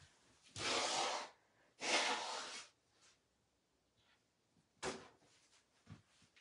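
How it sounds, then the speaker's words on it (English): A person blows their nose close to the microphone during an indoor craft session: two long, forceful blows, then a shorter one with faint sniffs between, and no talking. "I gotta blow my nose."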